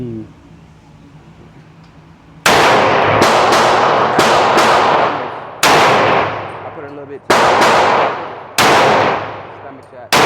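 Glock 31 Gen4 pistol firing .357 SIG rounds on a shooting range, loud close shots with sharp cracks, some in quick pairs and others spaced out, each ringing with echo, after quiet background sound and some talk.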